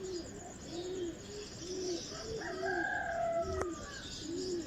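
Flock of pigeons heard as soft repeated coos in a steady rhythm, with a rising burst near the end as birds take flight, over outdoor background noise.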